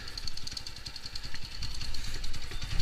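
Small engine just restarted and idling during carburettor tuning, a close, rough, rapid chugging that wavers slightly in strength.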